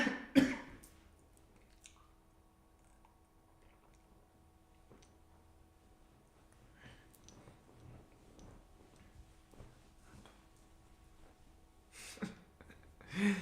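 A single short cough bursts out near the start, followed by quiet ticking and faint rustles, with another sharp throat sound toward the end.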